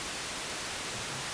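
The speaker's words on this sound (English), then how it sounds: "the last one is a white noise" A steady hiss of white noise from the noise generator on the BA-1 iOS soft synth, flat and unchanging, heard alone at low volume.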